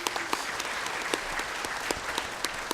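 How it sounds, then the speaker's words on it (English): A conference audience gives a steady round of applause for the organisers, dense clapping of moderate loudness with occasional sharper individual claps popping out. "so I think they deserve a round of applause."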